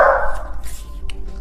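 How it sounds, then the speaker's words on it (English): Dogs barking indoors: a short, close bark burst followed by faint yips and whimpers, heard alone without talk. "please ignore my dogs"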